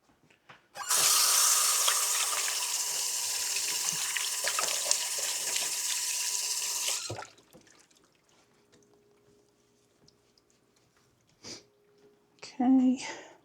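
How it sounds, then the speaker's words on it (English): Tap water running into a kitchen sink while hands are washed, a steady close gush lasting about six seconds before the faucet shuts off, followed by quiet handling sounds and a brief voice. "I'll have to wash my hands."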